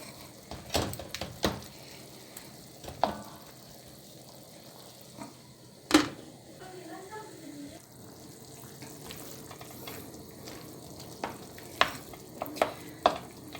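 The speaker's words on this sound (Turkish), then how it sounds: "Suyunu çekene kadar kavuracağız." Meat stir-frying in a pan for sac kavurma, a soft steady sizzle under scattered scraping and clattering of a utensil against the metal, fairly quiet and close.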